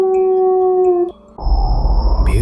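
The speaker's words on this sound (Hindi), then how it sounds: "तभी भेड़िए की दहाड़ने की आवाज आई।" A wolf howls in a sustained, tonal cry that holds steady and then breaks off, followed by a short burst of rough noise, loud and close with no voices.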